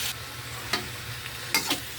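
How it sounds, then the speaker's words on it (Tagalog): Pork fries in a pan for Filipino dinuguan, a low steady sizzle broken by a few sharp spatula scrapes and knocks as it is stirred, with no one speaking. "Halo-haloin muna natin sandali guys."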